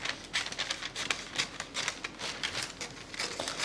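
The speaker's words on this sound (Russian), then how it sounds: "Выточку вырезаю." Scissors cutting out a bust dart from cotton fabric, heard as a close, quiet series of irregular crisp snips and rustles of cloth with no voices.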